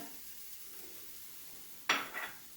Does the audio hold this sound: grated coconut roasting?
yes